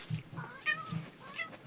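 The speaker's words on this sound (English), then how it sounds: "Meow, meow." A cat meows several times in short, rising-and-falling calls, close and fairly clear, spaced about half a second apart.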